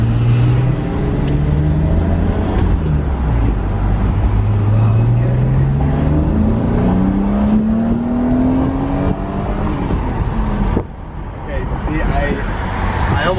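An ultra-rare right-hand-drive BMW E34 M5 drives through traffic, its engine droning and climbing steadily in pitch as it pulls through a gear before lifting off, with someone talking over the cabin noise.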